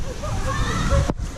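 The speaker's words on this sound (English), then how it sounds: "did you get water chucked at you there?" Water splashes over riders on the Snake River Falls log flume at a theme park, a brief slosh and spatter amid crowd babble and people talking, ending in a sudden drop to near quiet.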